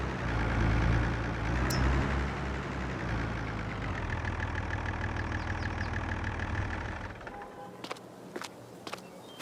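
Tractor engine idling in Farming Simulator 22, a steady low rumble that runs for most of the stretch and then cuts away to near quiet with a few sharp clicks near the end.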